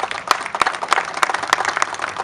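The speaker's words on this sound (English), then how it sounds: "Let's give him a big round of applause." An audience applauds at a Hurricane Harvey benefit event in Nassau County, with dense, steady clapping of a moderate crowd filling the room.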